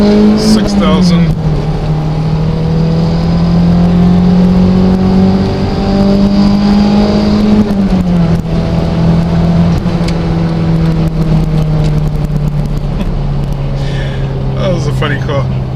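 A normally aspirated SW20 Toyota MR2 engine revs hard in second gear, its steady drone climbing in pitch through two pulls with a brief dip at the upshift, loud and close inside the cabin.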